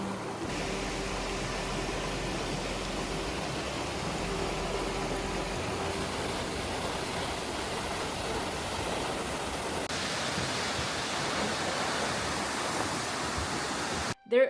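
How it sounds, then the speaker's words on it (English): Svartifoss waterfall in Iceland rushes as a steady, broad hiss of falling water heard from a path leading down to it in October rain, constant and moderately loud throughout. "This is the way down to the Svartifoss waterfall"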